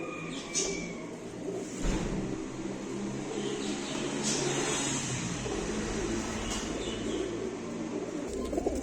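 Caged pigeons coo softly in a continuous background murmur, with a car engine revving and passing nearby.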